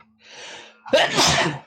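A single sneeze bursts out loud and close after a soft inward breath, the sharp explosive release trailing off over about a second during a Dungeons & Dragons tabletop session.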